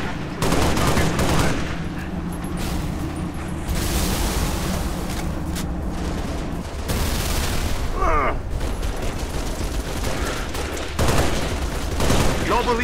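Halo Reach game gunfire crackles in sustained bursts and fusillades, loud and close, with a few booming hits and intermittent radio-style voices talking over the shooting.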